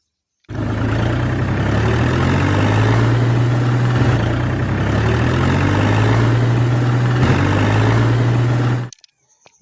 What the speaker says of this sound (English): this is a John Deere tractor